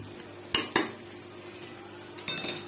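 Mutton korma masala is mixed in a pot with a metal spoon, giving a few sharp scraping clanks against the pot over a quiet background.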